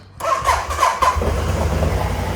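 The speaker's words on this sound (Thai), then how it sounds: "เดี๋ยวให้ดูเครื่องยนต์ดีกว่าสตาร์ทเลย" A 2013 BMW C650GT scooter's engine starts up: a brief whirring starter crank, then the engine catches and settles into a steady, close, loud idle rumble.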